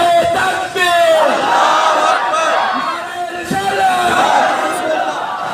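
Large crowd at a Jamaat-e-Islami strike rally against inflation in Kot Mithan roaring a takbir slogan in unison, loud, sustained massed shouting that swells and holds with overlapping voices.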